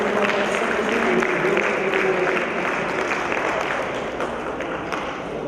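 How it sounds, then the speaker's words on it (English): Audience applause at a stage ceremony, a dense, even wash of many hands clapping at once, steady and fairly close, with no talk over it. "Please round of applause for Sayyid Ali for organization."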